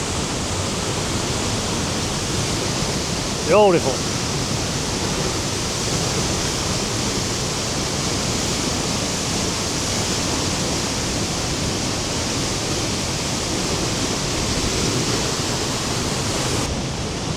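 A powerful winter waterfall in Iceland pours into a river, a loud, dense, unbroken roar that fills the whole stretch, with one brief spoken word near the start.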